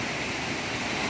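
Salto Apucaraninha waterfall plunging over a precipice between hills, a steady broadband rushing roar of falling water, continuous and even, heard from a distance without voices.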